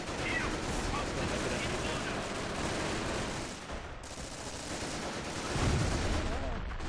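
A machine gun position in the Company of Heroes game rattles with dense gunfire and battle noise beneath someone talking, a continuous crackle throughout.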